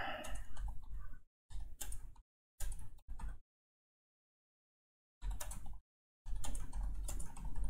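Password being typed on a computer keyboard while encrypting a masternode crypto wallet: several short bursts of close key clicks separated by silent gaps, with no talking.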